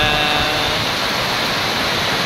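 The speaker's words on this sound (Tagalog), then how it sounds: "Ang lakas ng ulan" Heavy rain pours down in Daet, a dense, loud, continuous hiss of falling water with no pauses or voices.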